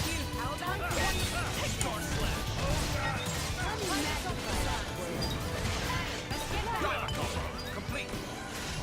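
Enemies smash an object during Xenoblade Chronicles 2: Torna – The Golden Country combat, with crashing impacts running through a loud, busy mix of game music and effects while someone talks over it.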